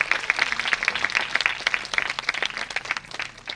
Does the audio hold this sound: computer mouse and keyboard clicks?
no